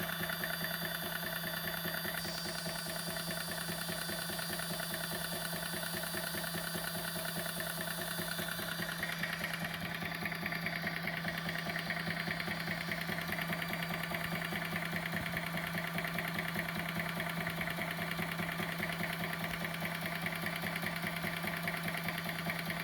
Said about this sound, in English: It's an awesome little compressor.